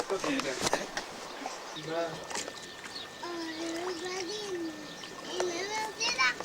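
Water splashes and splatters outdoors, brief sloshing bursts mixed with children's and adults' voices talking throughout.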